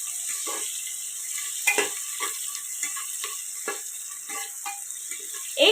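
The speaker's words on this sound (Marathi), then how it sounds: "आता ह्याच्यामध्ये मी कांदा टाकते. कांदा मस्त गुलाबीचा रंग येईपर्यंत परतून घ्यायचं." Onion fries in roasted masala inside a pressure cooker for veg pulao, a low steady sizzle broken by scattered stirring scrapes and clinks, close with no talking.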